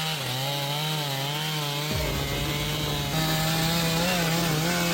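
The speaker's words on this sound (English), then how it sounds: "The chainsaw roars to life, its blade spinning at full speed, slicing through the massive tree trunk with precision and control." A Stihl 880 chainsaw cuts through a massive tree trunk, its engine droning loud and close with a steady high whine that dips and shifts in pitch as the chain bites into the wood, with no voices.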